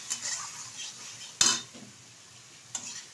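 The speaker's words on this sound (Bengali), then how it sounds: "ভালোভাবে কষিয়ে নেব মশলাটা।" Spice paste with turmeric and salt sautéed in a pan for rohu fish curry, giving soft scraping stirs with a couple of sharp utensil knocks against the metal, faint and close with no talk.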